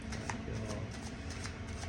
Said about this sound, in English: Shuffle a little bit more.